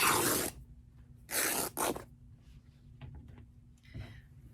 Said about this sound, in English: I'm going to take a little snip and tear.